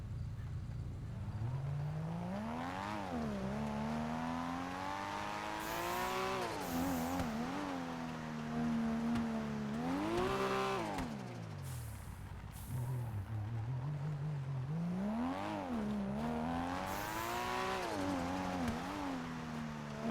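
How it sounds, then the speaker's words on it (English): A tuned car engine revs repeatedly in Grand Theft Auto V, its pitch climbing and dropping in steady swells, loud and close with no talking. "He worked this one really hard, and it sounds just like the Brian O'Connor's."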